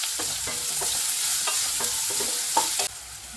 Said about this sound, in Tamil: கட் பண்ணி வச்சிருக்க 2 பெரிய வெங்காயத்தை இதில் சேர்த்துக்கிறேன். வெங்காயம் நல்லா வதங்கி வரட்டும்.